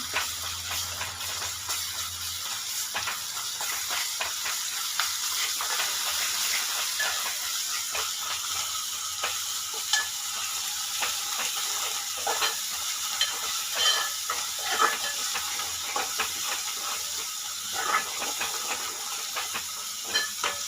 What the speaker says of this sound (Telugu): ఉల్లిపాయలు బాగా ఫ్రై అయినాయి ఇప్పుడు అల్లం వెల్లుల్లి పేస్ట్ వేసుకున్నాం ఇది వేసుకొని బాగా కలుపుదాము